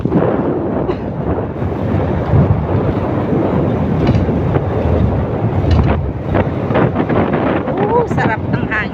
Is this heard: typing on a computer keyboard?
no